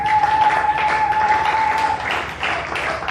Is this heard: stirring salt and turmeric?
no